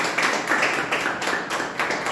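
Applause from the audience at a joint Toastmasters club meeting rings out as a dense, continuous clapping in rhythmic surges, close and fairly loud, with no talk over it.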